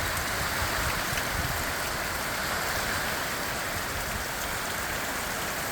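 Heavy rain in Tonga falls in a dense, unbroken hiss, drumming steadily on surfaces all around with no voices.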